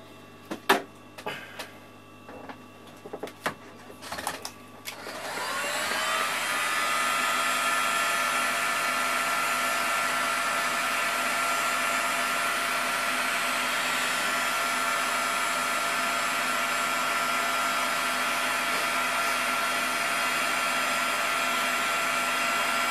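A hot air blower heats the ground trace on a Taramps HD15000 amplifier circuit board. A few clicks and handling knocks come first, then a loud, steady whooshing roar holds for the rest of the clip.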